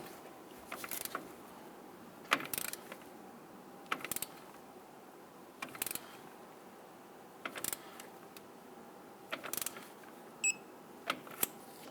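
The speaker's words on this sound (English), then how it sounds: "Go ahead and torque this down to 103 foot-pounds." A torque wrench ratchets in short bursts of clicks while a castle nut is tightened on a 2000-2006 Toyota Tundra ball joint, each burst separated by quiet pauses, close and fairly faint.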